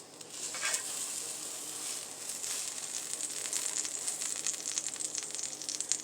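French toast breakfast wraps sizzle in a hot pan, a steady close crackle and spit of frying batter that swells slightly as the wraps are turned, with no voices over it.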